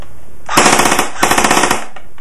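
A G&G Combat Machine AK47 electric airsoft rifle, powered by a 9.6 volt battery, fires two rapid full-auto bursts of buzzing, clattering shots, loud and close, with a short pause between them.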